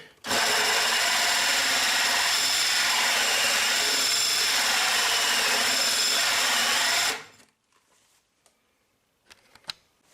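A power drill bit bores steadily through a hard kitchen worktop for about seven seconds, loud and close, then stops, leaving faint taps and rustles.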